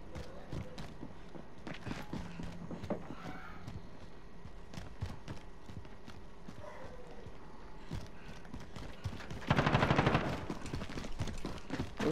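Video game gunfire in a multiplayer shooter, scattered faint shots and rapid bursts throughout, with a denser, louder volley near the end.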